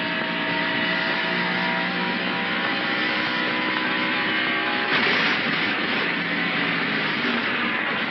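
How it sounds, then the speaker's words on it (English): Replay from the in-car camera of Dick Trickle's NASCAR Winston Cup car at the 1990 Champion Spark Plug 400: a loud, steady engine roar, then a sudden burst near the middle as a tire comes apart. The engine noise continues after the blowout. "It sounds like a tire came apart."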